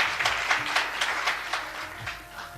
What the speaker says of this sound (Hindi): जोरदार तालियों से हम सब स्वागत करें